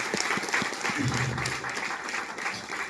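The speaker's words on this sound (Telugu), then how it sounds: "సో క్లాప్స్ అండి, బిగ్ రౌండ్ ఆఫ్ అప్లాస్" An audience claps at a gathering, a sustained patter of many hands with a faint voice briefly mixed in.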